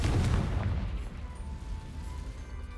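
A Confringo explosive spell in Hogwarts Legacy lands with a loud, close, deep blast at the start, then rumbles away into a low fading tail.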